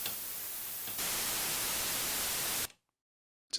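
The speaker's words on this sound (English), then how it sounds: "Now that hiss is a bit higher and hissier." High-frequency dither noise hisses steadily, growing brighter and louder after the first second, then cuts off abruptly into silence.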